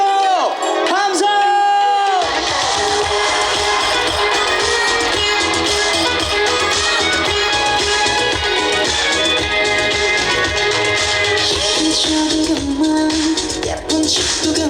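A large outdoor crowd at a Korean cultural festival concert in Ilsan Culture Square shouts and cheers loudly, a dense continuous roar of voices that stays strong throughout, with tonal music-like sounds near the start.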